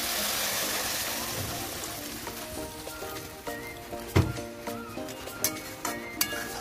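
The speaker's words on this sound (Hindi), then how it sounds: "इसमें बस पानी डाल रही हूँ।" Water is poured into a pan of cooking masala for an arbi leaf sabji, a brief rushing splash followed by soft sizzling and several light clinks of a utensil against the pan.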